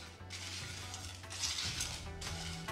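Cumin, fennel seeds, peppercorns and dried red chillies are stirred in a nonstick pan over a low flame. Soft scraping from the stirring comes over a faint, gentle sizzle, quiet and close.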